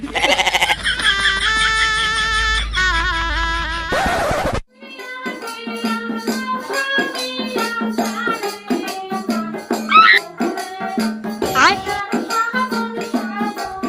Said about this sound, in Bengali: ছাগলটা বাইরে বান্ধা আছে